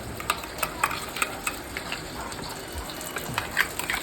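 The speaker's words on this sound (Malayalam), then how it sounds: "ഇളക്കി കൊടുക്കണം." Taro leaf curry being stirred in a pot, with repeated close spoon clicks and scrapes over a steady bubbling simmer and no talk.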